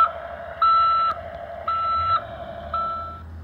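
A 2011 Hess toy truck sounds its electronic reversing alarm: three clear, evenly spaced high-pitched beeps, each about half a second long, close up with no talk.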